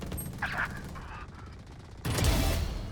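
Gunfire from the video game Valorant erupts as a sudden loud burst partway through, after a stretch of quieter in-game sounds.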